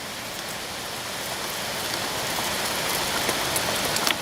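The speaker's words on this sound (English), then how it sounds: "it's raining. As you can see, it's actually coming down pretty hard" Heavy rain pours down steadily in a dense, loud, continuous hiss with no talking, thunder rumbling somewhere in the storm.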